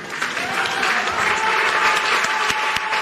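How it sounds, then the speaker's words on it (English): Studio audience at a TV talent show applauding, a dense, steady wash of many hands clapping close and loud throughout, with no voices on top. "A round of applause for Hackman."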